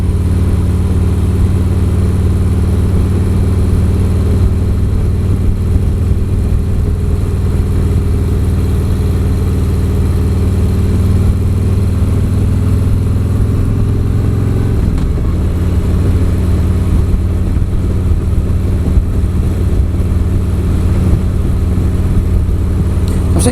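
A 2017 Harley-Davidson Street Glide Special engine runs steadily at a loud, low rumble that dips briefly partway through before settling again, with no talk.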